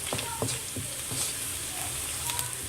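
Ladyfinger and onions stir-frying on high heat, giving a constant hissing sizzle with a few soft knocks and scrapes of a spatula in the pan.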